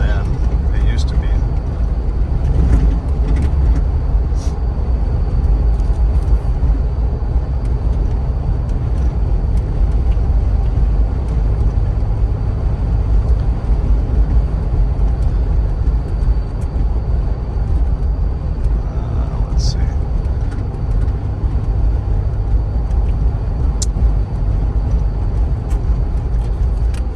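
Steady low road rumble and wind noise inside a Jeep Wrangler Unlimited driving on city streets and freeway, with occasional small bumps.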